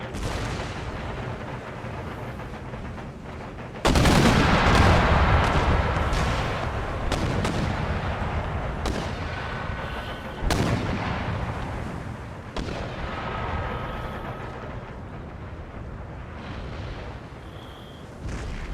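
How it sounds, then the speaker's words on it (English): Mortar and howitzer artillery in the video game Total War: Empire, several loud booms at irregular intervals rolling over a continuous rumbling battlefield din, some louder and closer than others. "Must be an extreme range of the mortars as well."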